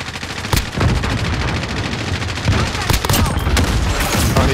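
Dense automatic gunfire rattles in Call of Duty: Modern Warfare, loud and close, with bursts and sharp single shots overlapping throughout and voices faintly underneath.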